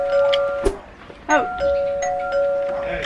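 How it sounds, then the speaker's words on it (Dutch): A single doorbell rings at a front door, a clear electronic chime heard once with short echoing tones, and a voice speaks briefly around it. "ik bel gewoon één keer zachtjes aan"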